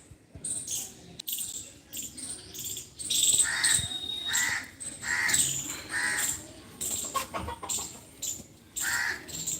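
Outdoors at a rural shrine compound, chickens and roosters make repeated clucks and calls in bursts, mixed with crows cawing and crickets in the background, fairly close and moderately loud.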